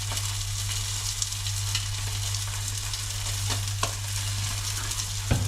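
Red mullet frying in a pan, a steady close sizzle with fine crackling spatter and a constant low hum underneath, punctuated by a few sharp pops and clicks near the end.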